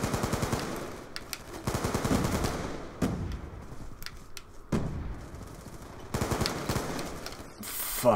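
Rapid machine gun spray fire in the Black Ops 2 multiplayer shooter, bursts of loud close automatic shots separated by short pauses, with a few single reports, and no voices.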